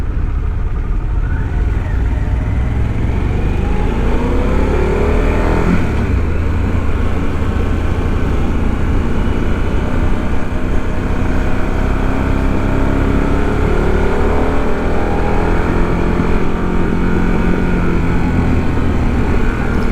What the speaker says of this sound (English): I really like the sound of this engine.